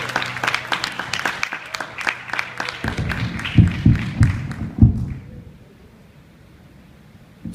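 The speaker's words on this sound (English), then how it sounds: "Come on, clap your hands for him." An audience claps for a spoken-word guest, a burst of brisk applause with scattered voices and cheers that swells, then fades to near silence by the end.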